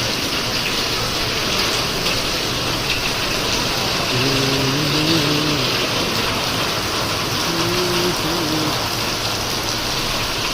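Dense, steady roar of heavy rain pouring down on a grain market, with a low engine hum and brief faint tones in the middle.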